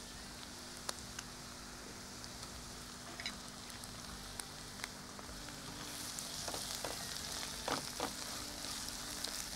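Onions and ginger-garlic paste frying in butter, giving a steady close sizzle and crackle with occasional sharp pops and stirring scrapes that grow busier toward the end; no one speaks.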